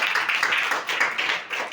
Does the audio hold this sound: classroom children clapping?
yes